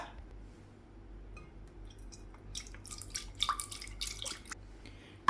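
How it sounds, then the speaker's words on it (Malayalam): One litre of liquid is poured into a large pan on a stove, a splashing, trickling pour that builds up after a quiet start and ends with a small knock. "ഒരു വലിയ പാൻ അടുപ്പത്ത് വെച്ചിട്ട് അതിലേക്ക് ഒരു ലിറ്റർ ഒഴിച്ചു കൊടുക്കുക"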